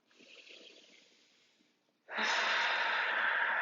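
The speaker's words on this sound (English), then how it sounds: "Take a cleansing inhale and exhale" A yoga cleansing breath: a soft, airy inhale fades out, a short silence follows, and then a loud, forceful exhale rushes out close to the ear.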